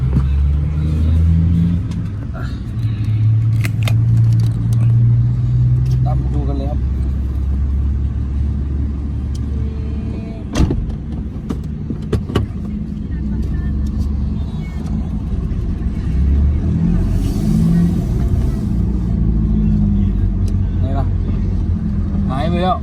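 A car engine rumbles and revs up repeatedly, rising and falling in pitch, with people talking over it throughout.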